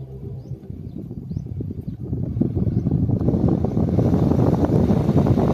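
Car air-conditioning blower switched to maximum with the engine running, a broadband rushing hum that climbs in level after about two seconds and then holds steady and loud.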